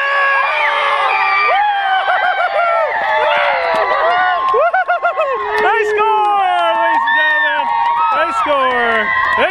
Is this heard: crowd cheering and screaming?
yes